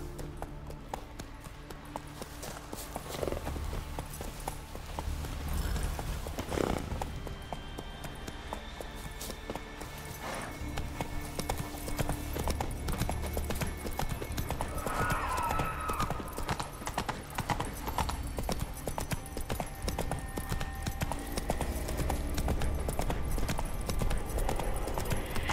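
Roach the horse galloping in The Witcher 3, a continuous rapid clip-clop of hooves under a wash of wind and ambient game sound, with occasional brief voices.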